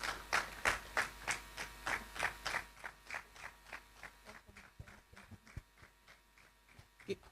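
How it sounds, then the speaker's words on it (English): Audience at a World Intellectual Property Day 2023 ceremony claps in a steady, rhythmic beat, about twenty crisp claps that gradually fade and thin out over a low electrical hum. "Please let's clap our hands together as she comes to the podium to give our goodwill message."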